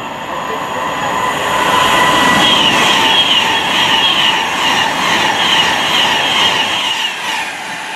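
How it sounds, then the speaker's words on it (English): A Class 390 Pendolino on the West Coast Main Line near South Kenton, bound for Manchester Piccadilly, passes close by, a loud sustained rush of wheels and rail noise with light clatter that swells and holds. "Next up, Pendolino to Manchester Piccadilly."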